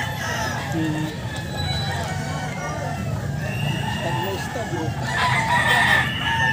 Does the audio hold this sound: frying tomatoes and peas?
no